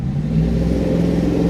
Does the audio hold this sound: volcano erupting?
no